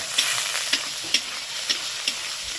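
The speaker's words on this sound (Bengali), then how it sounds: "চিংড়ি মাছগুলো পুরো ভাজা হয়ে গেছে" Prawns frying in a wok give a steady, close sizzle, broken by about five sharp scrapes or clacks of stirring at irregular intervals.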